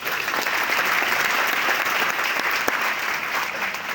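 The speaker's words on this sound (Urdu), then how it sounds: "اس پر آپ تالیاں ضرور بجائیں" An audience claps loudly and continuously at a university event in Multan, a dense, even wash of applause that fills the whole stretch without letting up.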